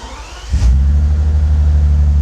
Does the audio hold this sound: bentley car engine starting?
yes